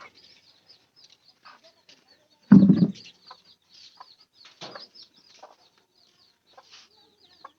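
Chickens cluck softly and sporadically at a pigeon and poultry farm, with one loud, brief burst like wings flapping early on, then scattered light clucks and calls in a quiet setting.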